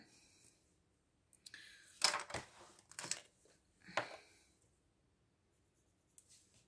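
Scissors cut paper while a small page is trimmed for a handmade mini album. There are a few quick, close snips and rustles spaced about a second apart, quiet in between, with no talking.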